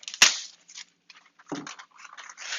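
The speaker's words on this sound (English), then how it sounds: "I'm going to tear off a bit of greaseproof paper." Greaseproof paper is torn off a roll in a kitchen. A sharp snap opens it, followed by crinkly, papery rustling and tearing bursts, close and fairly loud.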